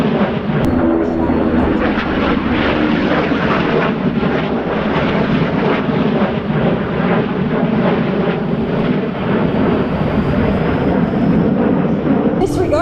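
A Boeing B-29 Superfortress making a straight and level flypast at an air show beside a B-2 at Whiteman Air Force Base, a steady, loud, broad propeller-engine roar that holds for the whole stretch, with a faint announcer voice beneath it.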